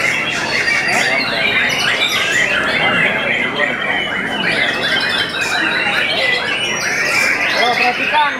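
A white-rumped shama (murai batu) sings at a crowded bird contest, its dense, shrill trills and squawks running continuously and loudly among other competing birds while a voice talks over the din.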